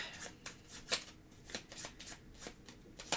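A deck of playing cards being shuffled up close for a board game, quiet riffling bursts repeating in an uneven rhythm of soft flicks and snaps.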